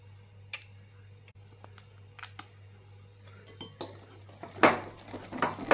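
A spoon mixing food colour into pistachio nan khatai dough in a bowl, with scattered light clinks and scrapes that grow busier and louder toward the end over a faint background hum.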